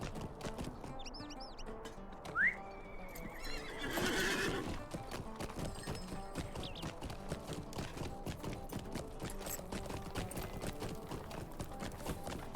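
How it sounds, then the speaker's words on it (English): A horse in the Lord of the Rings Online video game gives a loud, shrill neigh as it is mounted, followed by steady clip-clopping hooves that continue to the end over a constant game music and ambience bed. "we'll hop right on our horse and get over there."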